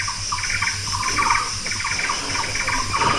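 Birds chirp and call in a natural setting at about 500 feet above sea level near Kuala Lumpur, with repeated short bright calls over a steady bed of insect buzzing and faint background noise.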